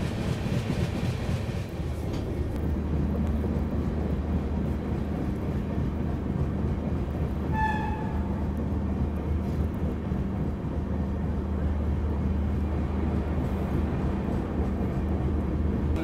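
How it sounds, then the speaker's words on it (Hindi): The Kalka Shatabdi Express pulls into Sonipat Junction, heard as a loud, steady rumble of rail wagons with a brief tonal horn-like whine midway, continuous and close with no talk. "यहाँ पे अपनी कालका शताब्दी पहुंच रही है सोनीपत जंक्शन।"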